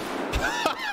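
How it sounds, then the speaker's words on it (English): Three sharp gunshots ring out in Escape from Tarkov, spaced a fraction of a second apart, each with a short echoing tail over faint background noise. "He shot his buddy."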